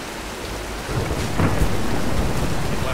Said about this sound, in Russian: Давай переждем бурю.